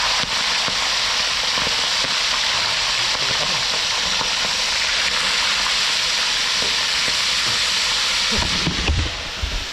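Tilapia sizzles and crackles loudly in hot oil, a dense continuous hiss with sharp pops throughout, ending with a soft clunk.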